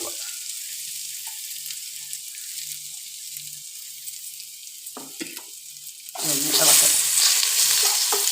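Hot coconut oil with mustard seeds crackles and pops quietly with faint stirring, then a burst of loud hissing sizzle erupts as crushed spices including pepper drop into the pan.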